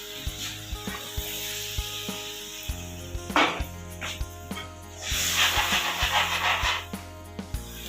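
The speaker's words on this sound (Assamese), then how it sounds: "গৰমাই থোৱা পানী দি দিম।" Hot water hits a hot frying pan holding potatoes, and a loud hissing sizzle swells midway over steady background music.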